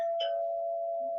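Nokia phone's "Ding Dong" ringtone plays a clear, sustained electronic chime with a brief bright ding at the start, ringing steadily and close.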